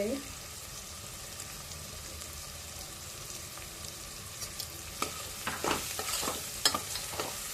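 Chicken pulao masala with Kashmiri chili powder and turmeric frying in oil while being stirred, a steady sizzle with scraping strokes that grow louder and more frequent near the end.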